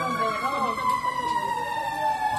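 A wailing fire truck siren sweeps steadily, loud and close, with background chatter from people nearby at a fire in a four-storey residential building.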